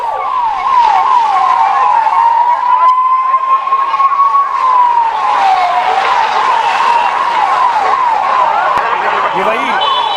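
A fire brigade vehicle's siren wails loudly and close, sweeping up and down in a steady cycle. It arrives at a fire near a railway bridge at the Mahakumbh Mela, over rumbling traffic.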